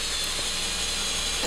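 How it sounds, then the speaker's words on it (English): A steady, loud grinding whir of a hole saw cutting continuously through a trailer floor, with no pauses. "use an appropriate size hole saw to give you enough room to feed all the required wiring through the floor"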